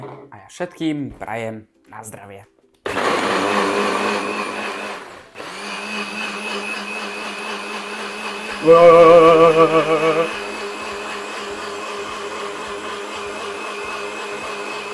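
A blender runs loud and steady while making a chocolate shake, whirring for about eleven seconds with a harsher surge midway, after a short burst of talk at the start.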